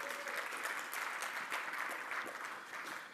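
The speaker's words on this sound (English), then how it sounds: "Big round of applause for Dean for wearing that amazing costume" Indoor audience at a gaming industry event applauds steadily and fairly loudly, a dense continuous clatter of many hands clapping that holds for several seconds before easing slightly at the end.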